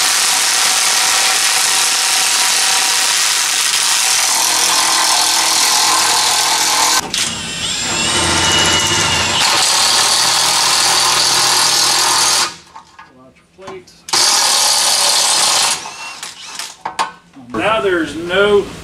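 A ratchet works a bolt out of a truck's torsion bar on an OBS Suburban, giving a loud, close, continuous clicking and whirring that runs for long stretches, breaks off briefly, then starts again in shorter bursts.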